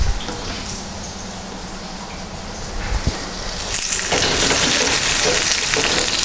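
Food with bitter and sweet ingredients browns in a hot pan, hissing steadily and growing into a louder, fuller sizzle after a sharp clatter midway, with no voices.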